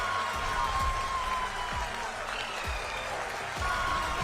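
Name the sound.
applause and cheering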